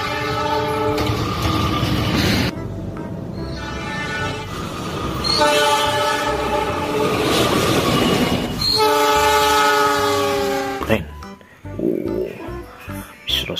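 A toy KRL commuter train runs along its track, sounding a loud sustained electronic horn in several long blasts with whirring motor and clicking wheels beneath, ending in a brief clatter.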